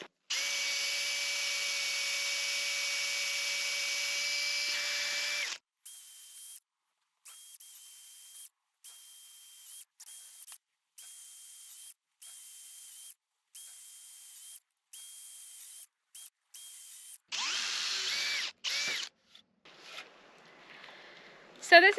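Electric drill boring a mortise into wood for a window frame in a barn conversion, a long steady whine followed by a series of short repeated bursts, close and loud, then some scraping.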